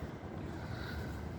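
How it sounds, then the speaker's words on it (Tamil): Strong wind blows outdoors in Kuwait, buffeting the microphone with a continuous low roar and gusty hiss, fairly faint overall and with no voices. "செம காற்றடிக்குது."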